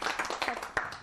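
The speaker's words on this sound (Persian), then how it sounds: "تشویقش کنین دوستان" Brief scattered clapping from a small audience at a children's and teens' celebration event, a few sharp claps rising and fading over about a second.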